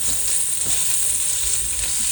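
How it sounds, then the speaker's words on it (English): Sausage sizzles steadily in a hot pan alongside crisped bacon, a continuous close frying hiss with faint stirring scrapes, no voices. "I'm going to put in my sausage and get it all cooked up"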